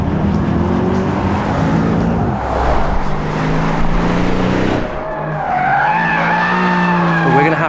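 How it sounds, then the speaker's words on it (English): A Mercedes-AMG car roars past with a loud, rising engine note and screeching tyres, the pitch sweeping upward near the end; one sustained burst of high-revving noise with tyre squeal. "Cars from Mercedes-AMG usually sound like this."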